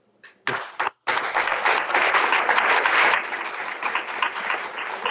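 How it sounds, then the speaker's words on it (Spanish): A seated audience at a Spanish-language prayer conference breaks into warm applause, starting with a few scattered claps before swelling into sustained, fairly close clapping that holds for several seconds. "me gustaría recibirlo con un aplauso de los compañeros para felicitarlo de su salud"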